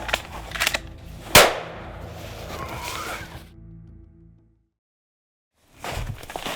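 One sharp, loud gunshot cracks out during a deer hunt, followed by rustling movement outdoors that fades into silence before the noise picks up again.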